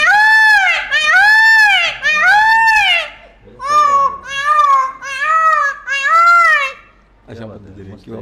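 A man mimics a peacock's call with a series of loud, wailing, rising-and-falling cries, three drawn-out calls followed by three more, then a brief softer vocal sound.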